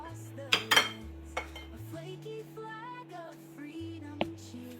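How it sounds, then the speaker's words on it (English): A spoon clinks against a dish while scooping warm berry filling onto puff pastry, a few sharp metallic taps and scrapes over a steady low background hum, close and quiet. "to serve, we just spoon in some of our warm filling"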